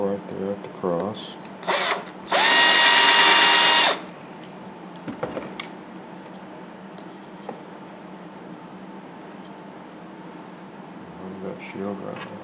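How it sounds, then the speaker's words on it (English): A power drill whines loudly in one steady burst of about a second and a half, boring a hole into a wooden carving of a Native American bust with a shield. Someone talks before and after it. "drill me a hole right there at the cross."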